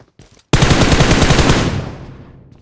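A rapid burst of automatic gunfire in PUBG Mobile, loud and close, a steady rattle of shots lasting about a second before trailing off into a fading echo.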